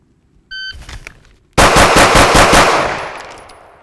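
At a shooting range, a shot timer beeps, and after the draw a handgun fires a fast string of about six loud, close shots. The echoes fade afterward.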